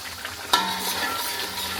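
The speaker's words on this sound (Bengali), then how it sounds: "শুকনো লঙ্কা দিয়ে দিছি দেখুন মশলাটাকে সুন্দরভাবে কষিয়ে নিছি" Spice masala with ginger and dried red chillies sautéing in a pan, a continuous close sizzle with one sharp metallic tap of a utensil near the start.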